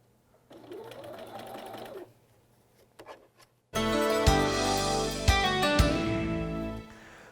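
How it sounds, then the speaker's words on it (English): Sewing machine stitching cloth dress pieces for regalia, a short quiet run of the needle, a pause with a few clicks, then a loud fast stitching burst running steadily close up. "So going forth, we're going to continue sewing this together."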